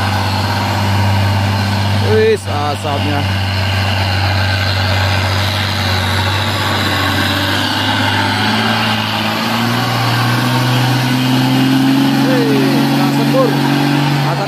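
Heavy orange truck labors up a hill, its engine droning loud and low without a break and the pitch shifting as it strains, while people talk nearby.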